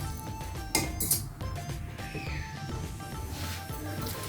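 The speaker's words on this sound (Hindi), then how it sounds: "चलाते जाना है, चलाते ही जाना है जब तक ये चम्मच साफ ना हो जाए" A spoon scraping and clinking against a pan while semolina halwa with melting sugar is stirred, close up, with repeated metallic knocks and a steady background hum, no talk.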